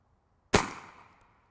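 AirForce TalonP suppressed air rifle firing a single sharp, loud crack that cuts through silence and decays quickly with a short ringing tail.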